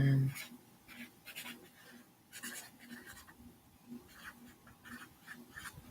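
Pen scratching across paper in short bursts while working through a biology review, under and between a person's speech, close and fairly quiet.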